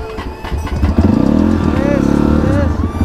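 A dirt-track motorcycle's engine idles and revs up close, with a throaty pulsing rumble that rises in pitch, while someone talks over it.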